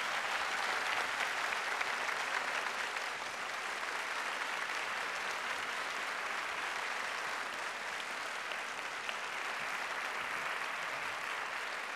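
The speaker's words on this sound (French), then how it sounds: "je demande aux gens dans la foule de vous applaudir une fois de plus nos finalistes" A crowd at the international final of a dictation contest applauds the finalists, steady continuous clapping heard from a distance at moderate level, without a break.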